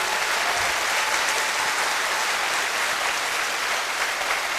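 Enthusiastic audience applause at a business seminar in India, thick continuous clapping from a large crowd, loud and even throughout with no speech on top.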